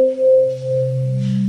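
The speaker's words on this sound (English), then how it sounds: "Here I've got 4 sine waves tuned differently." Four differently tuned sine-wave tones from a Solaris synthesizer rotate in turn, with steady pure pitches sliding smoothly into lower notes, loud and clean with no voices.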